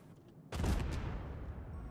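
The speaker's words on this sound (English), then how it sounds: "Just got an explosion." A sudden deep boom in Star Citizen hits after a quiet half-second, a loud, rumbling blast that lingers and slowly decays without fading out.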